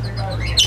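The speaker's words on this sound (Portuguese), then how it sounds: "Canário. Ó, estão ouvindo aí, ó? Canário." A canary sings in an aviary at a municipal bird park, its high chirping rising clearly near the end over steady low background hum and faint voices.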